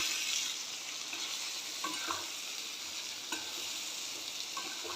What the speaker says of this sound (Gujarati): હવે એને સારી રીતે હલાવી લઈશું.